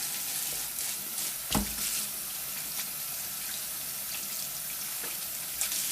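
Cold water runs steadily from a kitchen tap, a soft continuous hiss punctuated by a few clunks and splashes as something is handled under the stream.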